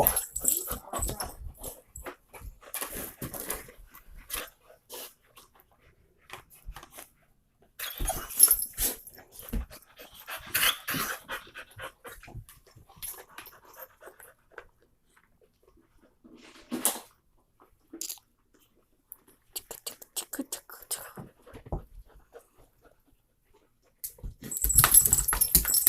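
A blind dog plays with a cat toy indoors, giving scattered bursts of snuffling, panting and soft whimpers with clattering toy sounds, broken by quiet gaps and a louder flurry at the end.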